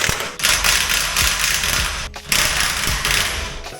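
Wheel bolts are loosened on a 2012 Acura TSX Special Edition during a suspension swap: two long, loud, rattling mechanical bursts sit close by, separated by a brief pause.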